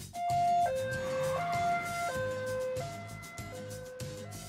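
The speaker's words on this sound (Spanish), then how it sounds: "¡Ahí va la ambulancia en la redonda!" Toy ambulance siren from a soft mini city vehicle set, a two-tone electronic wail stepping back and forth between pitches, loud and close, running continuously with no talk.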